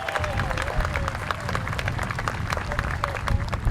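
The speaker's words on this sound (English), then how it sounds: "Let's give them a big round of applause" Applause from an outdoor symphony audience in the Flint Hills of Kansas, honoring the Kansas City Philharmonic; a steady wash of many hands clapping close and far under wind, with a voice faintly present.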